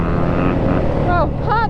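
A two-stroke 85cc dirt bike engine screams at high revs while racing, a loud continuous buzzing drone with rising pitch sweeps near the end as the rider shifts and accelerates.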